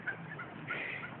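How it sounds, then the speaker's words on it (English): Wild turkeys gobbling outdoors, a faint, distant chorus of rapid warbling gobbles from a flock, short and continuous with no talking. "Look at all the turkeys!"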